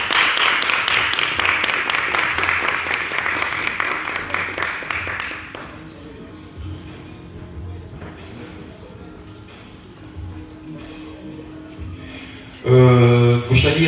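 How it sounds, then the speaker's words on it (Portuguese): Audience applause for Brown X at a university panel event, a dense wash of clapping that holds for about five seconds and then fades into quieter room noise and shuffling. "Eu gostaria de vocês uma forte salva de palmas a Brown X."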